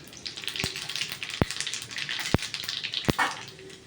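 Dried red chilies and cumin seeds dropped into hot oil for rava pulihora, giving a steady close crackling sizzle broken by a few sharp pops and clinks.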